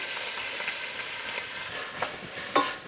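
Onion frying in oil in a skillet, a steady hissing sizzle throughout with a couple of brief louder crackles or utensil clicks near the end, no talking.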